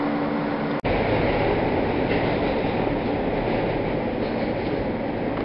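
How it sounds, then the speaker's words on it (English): A New York City subway V local train bound for Forest Hills–71st Avenue rumbles steadily along the track, a dense continuous roar heard from inside the car with one brief dropout near the start. "This is a Forest Hills 71st Avenue bound V local train."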